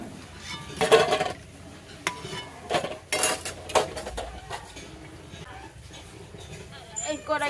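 Boiled eggs being lifted out of a pot of water, a few clinks of a spoon against metal ringing out close by, with a faint background hum and no talking.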